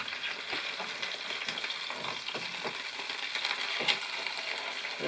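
Ground venison fries in a pan in an off-grid log cabin, giving a dense, steady sizzle with light stirring scrapes throughout, close and continuous without speech.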